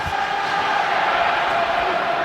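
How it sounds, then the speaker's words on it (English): A Port Adelaide AFL crowd at a Power home game against Melbourne chants in unison, a steady, dense wash of massed voices held at constant loudness throughout. "Start to hear the first time tonight that we've heard that chant come through the Power."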